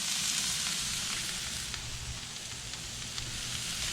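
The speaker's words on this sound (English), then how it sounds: "I'm just pouring our pepper mix right in there" A grilled pepper and onion mix sizzles in hot vegetable oil in a non-stick pan, a close, steady crackling hiss that stays loud and even throughout, with no one speaking.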